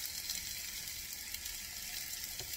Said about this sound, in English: now you're gonna saute these together